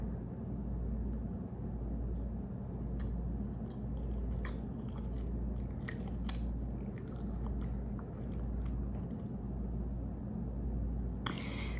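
Soft, close chewing and biting on a protein bar, with faint crunches and squishy mouth sounds over a low, steady background rumble. No one talks.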